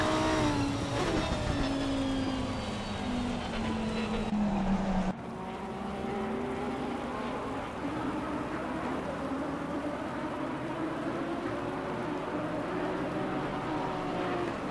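Lamborghini race cars lap the Paul Ricard circuit in a racing series. Engine roars sweep past and fade, with a steady blur of several engines running hard throughout.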